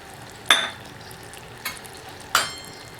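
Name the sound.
sugar syrup with cardamom and ghee being stirred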